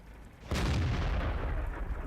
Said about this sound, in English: so I'm going to fire a few blind shots here